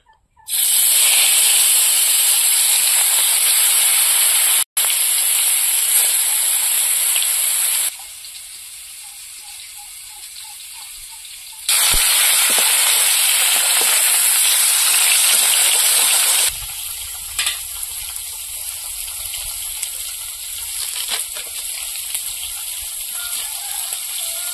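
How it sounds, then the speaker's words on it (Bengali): Kalbaush fish pieces sizzle loudly in hot oil in a pan, a steady hiss that drops and surges as the fish is moved. "এবার মাছগুলো ভেজে নেব।"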